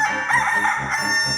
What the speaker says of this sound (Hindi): भैया मुर्गा बोला मुर्गा, सुबह हो गई सुबह